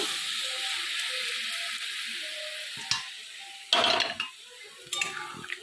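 Prawn and cauliflower curry sizzles softly in a pan, broken by a few louder bursts of pouring, stirring and clinks from a utensil against the pan, close by.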